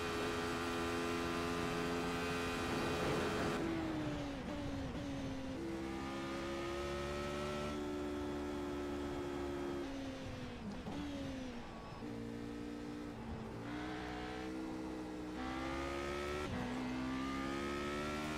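A race car engine in the iRacing sim roars loudly and continuously, its pitch climbing through the gears, dropping on shifts and braking, then rising again as the car laps the Nürburgring, with no voices.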